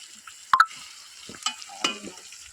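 Meat frying in a pan, quiet throughout, with a faint sizzle under a few sharp metallic clinks from a stirring utensil, and no talking.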